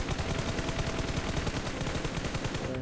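Rapid automatic gunfire from a video game shooting match, dense bursts of shots in steady succession filling the whole stretch, loud and continuous with no talk over it.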